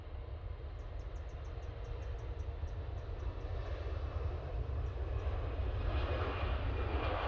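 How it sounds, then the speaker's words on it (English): An EasyJet airliner taking off for Gibraltar at Manchester Airport, heard as a steady, broad jet roar that builds gradually and stays loud throughout, with no talk over it. "And that's the EasyJet off to Gibraltar."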